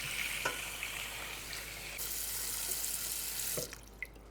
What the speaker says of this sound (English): And I'm just gonna put them in cold water.